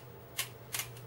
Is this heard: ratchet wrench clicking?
yes